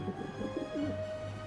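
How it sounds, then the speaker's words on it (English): A pigeon cooing in the adventure video game Syberia: The World Before, soft low throaty coos repeating over a steady game ambience with a sustained tone, close and moderate, without speech. "Kate Walker, How am I supposed to get rid of that pigeon?"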